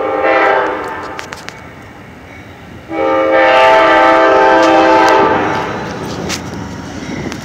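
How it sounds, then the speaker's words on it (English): An Amtrak passenger train pulls into the Wilson train station with a loud, sustained horn blast. Rumbling rail noise runs throughout and swells as the horn sounds up close. "Gotta stand back because of the train."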